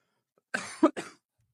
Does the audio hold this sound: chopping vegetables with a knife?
no